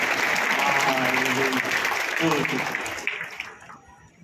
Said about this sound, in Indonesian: tepuk tangan dong untuk Tuhan Yesus